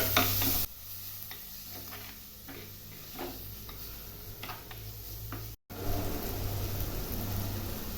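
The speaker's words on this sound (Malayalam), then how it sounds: "വെളുത്തുള്ളി പച്ചമുളക് കറിവേപ്പില ഇതെല്ലാം കൂടി അങ്ങോട്ടിടാം ചെറുതായിട്ടൊന്ന് വഴറ്റട്ടെ" Ginger, garlic, green chilies and curry leaves sauté in a pan for a Kerala-style prawn and mango curry, with a steady close sizzle and frequent spatula taps and stirring scrapes; there is a brief dropout near the end.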